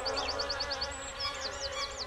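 Bees buzzing in a children's educational animation: a continuous faint hum overlaid with a quick series of repeating high chirping whistles, with no talk.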